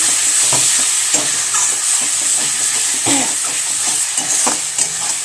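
Thick masala frying in separating oil in a kadai for prawn and pointed gourd curry crackles steadily up close, broken by repeated scraping stirs of a spatula against the pan, with no voices.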